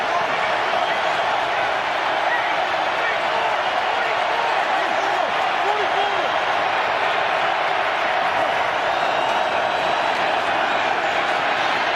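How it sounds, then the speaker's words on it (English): A stadium crowd at an NFL game between the Chicago Bears and the Detroit Lions roars as a steady, dense wash of noise that never lets up, with speech faint in the background. "Now Dalton has to deal with some crowd noise."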